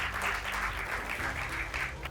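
Applause for quant faculty at a felicitation and success party for bank exam aspirants, a dense, fairly faint wash of many hands clapping that holds steady throughout.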